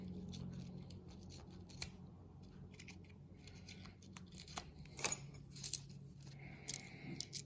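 Scissors cutting open a paper roll of silver dimes, with several sharp snips and crinkles spread over a few quiet seconds and faint coin clinks near the end.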